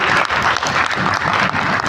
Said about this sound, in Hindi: तो एक शानदार ताली आपके अपलाइन के लिए होनी चाहिए।